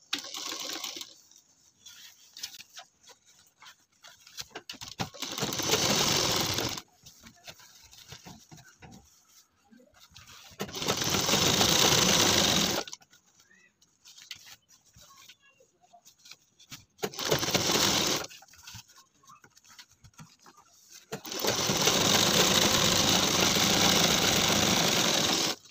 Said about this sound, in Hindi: पलट के सिलाई लगा लेंगे।